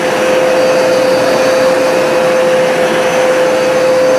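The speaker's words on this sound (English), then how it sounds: "this is a very nice carpet cleaner" A Hoover SmartWash carpet cleaner runs on carpet with a steady, loud motor drone and a constant high whine, unbroken and close, with no talking.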